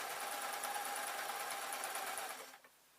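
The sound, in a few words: sewing machine stitching a 3D glasses case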